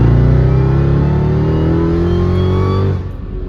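A 640 hp Mercedes E55 AMG with a 5-speed gearbox pulls hard from a roll, its engine revving loud and rising steadily from inside the car before easing off near the end, with no talk.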